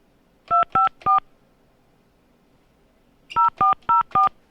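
Touch-tone dialing beeps: three quick tones, a pause, then four more in a steady rhythm over faint background hiss.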